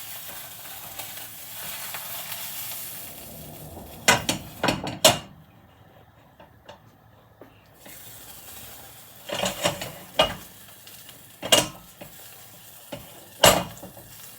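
A cheese omelette cooks in a pan with a soft constant sizzle, broken by sharp scraping and clacking strokes of a utensil pushing the egg toward the center in irregular bursts.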